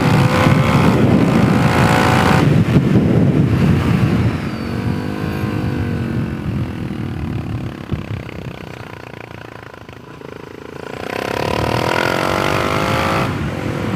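A Suzuki DRZ 470 SM supermoto motorcycle ridden on a kart track at Oklahoma Motorsports Complex, its loud engine revving up and down through gears, easing off midway with rising and falling pitch, then surging hard again near the end.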